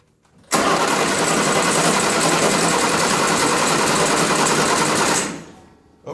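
A car engine cranks over with the key off to build oil pressure, a steady fast whirring starter drone that begins abruptly, holds evenly for about four and a half seconds, then winds down.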